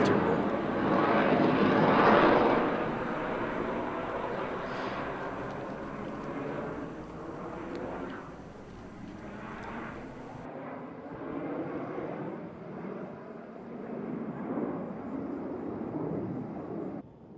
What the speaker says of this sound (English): All 6 aircraft together in the Delta.